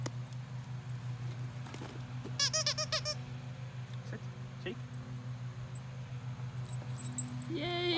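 A squeaky dog toy shaped like a Lipton iced tea bottle gives a quick burst of several high squeaks amid a low steady hum and faint rustling handling noise, with another squeak starting at the end.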